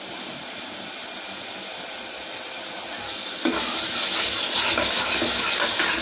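Shallots and masala sauté in a hot pan with a steady hiss and sizzle, close up, which suddenly grows louder and crackles more partway through as something is stirred or added; no talking.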